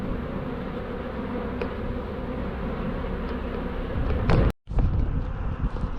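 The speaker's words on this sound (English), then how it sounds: "in the lid was a big ball of bees" A dense, continuous buzz of a bee swarm in a hive box fills the air up close, loud and steady, broken by a sudden brief dropout before resuming.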